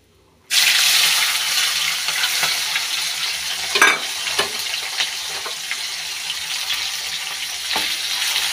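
Onion dropped into hot oil gives a sudden loud sizzle that keeps hissing steadily, with a few scraping stirs, while potato, bay leaf and boiled bean seeds wait nearby for an atta pasta dish.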